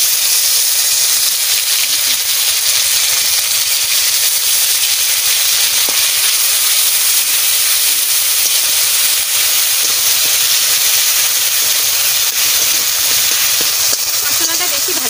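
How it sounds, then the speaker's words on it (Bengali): Spice masala sizzles in hot oil for a tilapia fish curry, a loud, steady hiss that holds unbroken from start to finish. "মশলাটা আমি তেলের পরে দিয়ে দিচ্ছি।"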